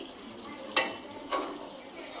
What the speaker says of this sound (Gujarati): આપણે મિક્સર જારમાંથી કાઢેલું પાણી છે એ થોડુંક નાખીશું.